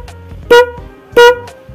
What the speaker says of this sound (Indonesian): ini satu klakson yang high atau yang kenceng